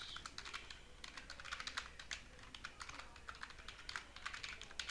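Rapid, even tapping on a computer keyboard as an email address is typed, with quick clustered keystrokes that are close and fairly quiet, no voices.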